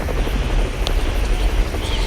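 Helicopter in the Roblox video game, a steady low rotor and engine drone that holds loud and continuous throughout, with no talking over it.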